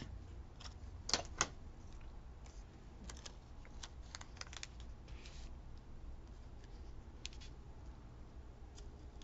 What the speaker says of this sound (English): I'll cut them in half.